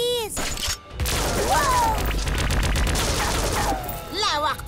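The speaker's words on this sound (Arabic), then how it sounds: "انتهى وقت اللعب بان، علينا فعل شيء مع المدفع هذا بسرعة." A cartoon cannon in Ben 10 fires a rapid volley of blasts, dense booming shots in quick succession, loud and close, with animated voices and whooshing effects around them.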